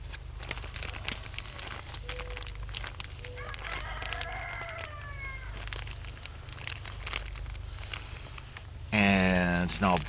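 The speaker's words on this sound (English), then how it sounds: "The plastic I'm using here is just a cut up 1 gallon" A cut-up one-gallon plastic freezer bag crinkles while it is wrapped around a tree branch for air layering. The rustling is steady and moderately close, there is outdoor ambience with birds in the background, and a louder burst of crinkling comes near the end.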